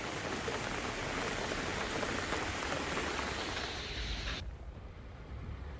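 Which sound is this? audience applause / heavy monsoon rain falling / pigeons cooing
heavy monsoon rain falling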